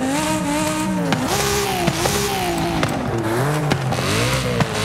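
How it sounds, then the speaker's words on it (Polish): A 4.0-litre V8 engine swap in a BMW M4 G82 in Forza Horizon 5 revs loud and close, climbing and dropping repeatedly through gear shifts with a raspy, rising howl. "No to chyba się zgodzicie, że V8 4-litrowa brzmi fantastycznie"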